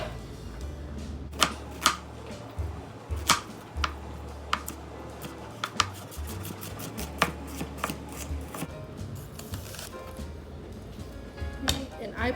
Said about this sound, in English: And I put it in slivers.